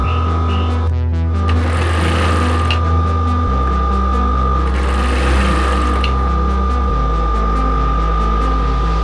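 A sewing machine stitches a spunbond fabric laundry bag, its motor giving a steady close mechanical hum and rapid needle throb that runs without pause and shifts pitch slightly as the speed changes.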